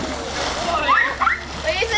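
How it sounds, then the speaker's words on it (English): A 500-pound seal leaps out of a pool at a seal show, sending up a short, close burst of splashing and sloshing water amid noisy surroundings, with a voice faintly in the mix. "Let's see if he wasn't powerful enough to leap right out of the water and touch this target."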